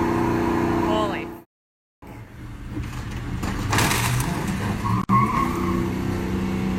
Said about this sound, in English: the truck eventually came onto the hood of the front police car